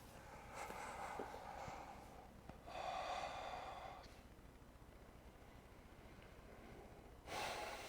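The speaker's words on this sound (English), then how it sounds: "Breathing in deeply" Deep breathing during a yoga session, several slow audible inhales and exhales spaced a few seconds apart, close and quiet with no talking.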